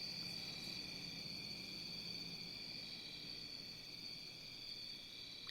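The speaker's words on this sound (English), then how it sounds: "hearing how loud the sound and the ambience of the crickets were back in my more secluded suburban hometown" Crickets chirping at night in a quiet, secluded suburban area, a constant layered high trilling chorus with faint distant background noise, steady throughout and with no voices.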